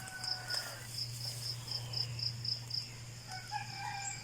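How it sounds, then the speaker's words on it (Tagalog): Chickens that roosted in a mango tree call at a rural camp in Tanay, Rizal, with faint distant crowing and clucks over a steady chorus of insects. "yung manok po dito na nakahapon sa mangga ay bumaba na po."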